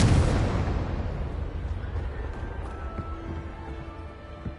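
A Confringo fire spell in Hogwarts Legacy bursts loudly up close, a heavy explosive boom at the start that rolls into a long, slowly fading rumble with scattered crackles.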